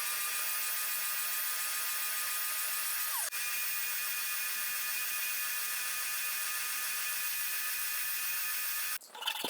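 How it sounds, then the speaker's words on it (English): Bench sander and spindle sander shaping wooden nursery closet dividers: a loud, continuous high-pitched motor whine and sanding hiss fills the whole stretch, with a brief shift partway through and a change near the end. "Once cut to shape, I use my bench sander to get it more refined, and then the spindle sander to further develop the shape"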